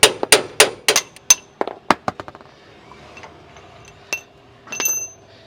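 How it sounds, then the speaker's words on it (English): Hammer blows drive a kingpin out of a 1959 Dodge front end, a burst of sharp, loud metallic strikes in quick succession, then sparser, lighter taps and a final clatter. "I wonder if I can pound it up now. Get the top one out."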